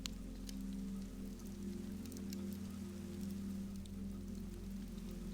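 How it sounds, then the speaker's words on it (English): Rain falls steadily on a slate roof close overhead, a soft continuous hiss with scattered faint drop taps over a low hum, quiet and without voices. "The rain roared on the slates close overhead"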